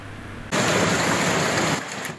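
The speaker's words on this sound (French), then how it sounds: "Au pays du lait et du miel coule aussi la pluie, beaucoup de pluie" A torrential storm downpour in Israel comes in suddenly after a quiet half second as a loud, dense, steady roar of rain and then eases slightly near the end.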